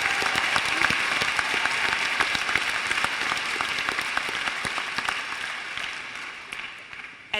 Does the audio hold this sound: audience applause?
yes